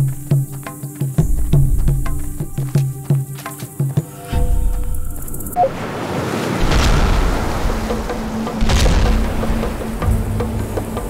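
Detonation explosion in the video game Strike Force 2, a loud booming roar that breaks in suddenly after tapping and rumbling, then sustains as a broad rushing blast with further rolling booms.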